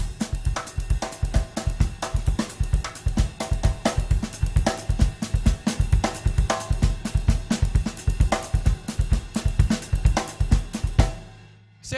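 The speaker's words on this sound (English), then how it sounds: "it'll sound like this at a faster tempo with the snare drum" A fast, light snare drum groove with muted rim shots, dense regular hits played close and steady with a buoyant feel, ending abruptly.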